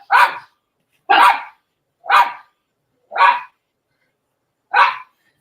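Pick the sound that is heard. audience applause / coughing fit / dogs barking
dogs barking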